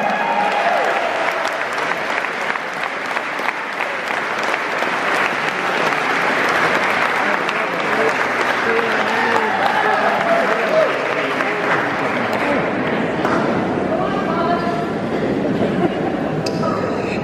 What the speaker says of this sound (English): Give him a huge big round of applause.